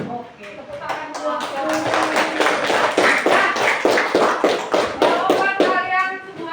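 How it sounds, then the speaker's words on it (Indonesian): A class of schoolchildren claps hands together in a classroom, a fast rhythmic patter of many overlapping claps lasting several seconds, with young voices mixed in. "tepuk tangan dulu"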